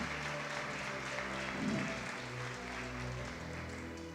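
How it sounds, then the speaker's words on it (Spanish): Congregation applause during a church sermon, a moderate, steady clapping wash under a low sustained background hum, lasting a few seconds at fairly low volume. "Si lo crees, dale un aplauso al Señor."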